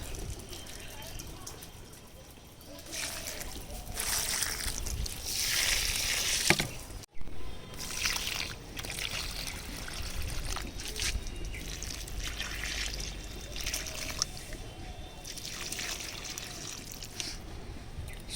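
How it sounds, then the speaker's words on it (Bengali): Water trickles and pours onto garden plants such as mint as they are watered, a soft, uneven splashing stream close by that comes and goes, with a voice talking over it. "সব গাছগুলোতে জল দিয়ে দিলাম"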